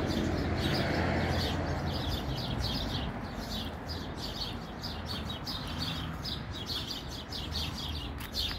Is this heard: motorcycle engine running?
no